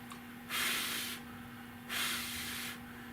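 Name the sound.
wet sanding a car dash panel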